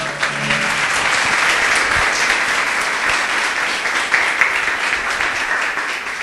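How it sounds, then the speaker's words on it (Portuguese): A church congregation claps loudly in praise, a dense, sustained roar of many hands that fills the room evenly, with a voice faintly present at the start. "Louve ao Senhor com suas palmas bem fortes."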